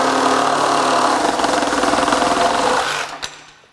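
A Milwaukee M18 cordless power tool running on a REDLITHIUM FORGE 6.0 Ah battery cuts steadily with a loud, close, buzzing drone, then winds down and stops with a brief knock.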